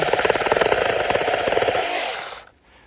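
A small battery-powered Licorne chainsaw cuts through a tree limb, a loud, close, steady whirring buzz with a rapid chattering pulse from the chain that stops abruptly near the end.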